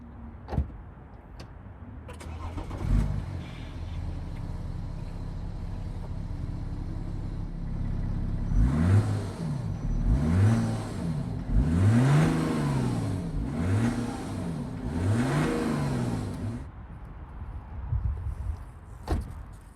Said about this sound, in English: I'm going to start the car, even though it's a diesel, it is a twin turbo